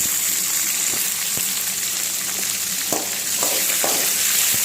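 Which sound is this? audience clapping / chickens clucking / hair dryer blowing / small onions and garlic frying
small onions and garlic frying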